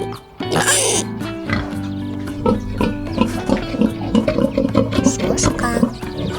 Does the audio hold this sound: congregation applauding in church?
no